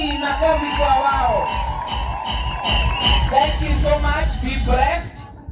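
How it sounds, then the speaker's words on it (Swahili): A crowd at a sports ground applauds and cheers young players, a sustained wash of clapping with whoops and shouts, fading out at the end. "Makofi kwa wao."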